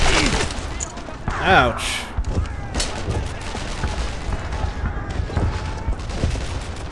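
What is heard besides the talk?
gunfire in Brothers in Arms: Earned in Blood video game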